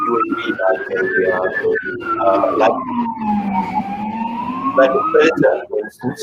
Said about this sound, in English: I've got a siren in the background too here.